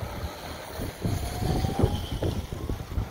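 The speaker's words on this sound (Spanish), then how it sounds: "Fuerte viento en contra, lo que dificulta aún más el pedaleo de los ciclistas" Strong headwind buffets the microphone at a cycling race stage near the industrial park of Cutral Có, a continuous low rumbling roar with gusty swells throughout.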